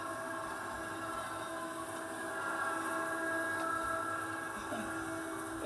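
A steady rumbling train sound in a Roblox game, with a constant mechanical hum and faint clatter, moderately loud and continuous, growing slightly stronger toward the end as it approaches.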